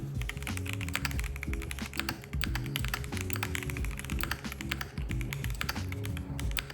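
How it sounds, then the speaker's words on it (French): Rapid typing on a mechanical keyboard at a coding desk, dense clacky keystrokes in a steady flurry, close and clear with no talking. "je préfère coder avec des claviers mécaniques parce que j'adore le son qu'ils font"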